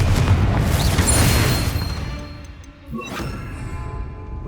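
A Confringo spell explodes in Hogwarts Legacy with a heavy, rumbling boom that decays over a couple of seconds, followed by a softer secondary crackling impact.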